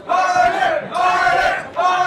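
A crowd at a live pro wrestling show chanting in unison, loud rhythmic group shouts rising and falling in three surges.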